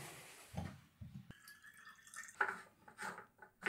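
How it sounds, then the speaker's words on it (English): Water trickles and drips into the tank of a La Pavoni Europiccola espresso machine in short, faint, close splashes, with a few light clinks of the vessel between pours. "I'm going to put water in it and then I'm going to turn it on."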